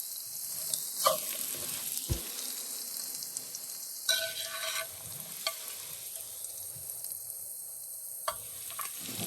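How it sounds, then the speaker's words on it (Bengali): Chopped carrot and onion fry in a pan with a steady, close sizzle, marked by occasional stirring scrapes and a faint electronic whine rising and falling in the background; no one speaks. "দিয়ে দিব যে গাজর কুচি আর পেঁয়াজ কুচি"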